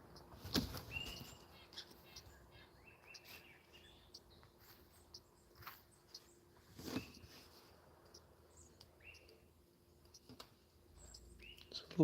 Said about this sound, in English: I'm listening to a lot of birds right now.